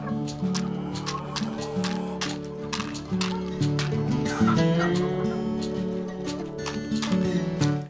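Fat, barred carijó naked neck hens cluck and call busily close by in a crowded flock, with overlapping squawks and sharp calls throughout.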